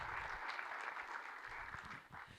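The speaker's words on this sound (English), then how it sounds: "Round of applause." Audience applause at a school district State of the Schools address: steady, dense clapping from a room of principals and educators, sustained throughout and slightly easing toward the end.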